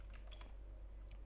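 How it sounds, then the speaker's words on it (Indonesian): A command is typed on a computer keyboard during a software setup, heard as a few faint, quick key clicks over a steady low hum. "mengetik Ionic server."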